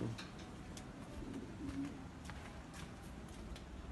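Pigeons coo softly and repeatedly close by in a loft, low rolling calls overlapping against a steady background hiss.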